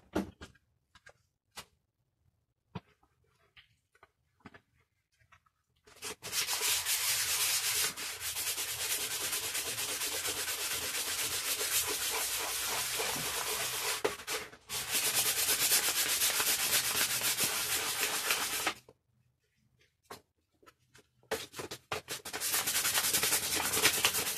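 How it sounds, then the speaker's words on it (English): Wet sanding on a hydro-dipped helmet, with a few scattered taps and handling clicks first, then long, loud, continuous rasping passes close up, broken by short pauses between strokes. "Now we go for the wet sand."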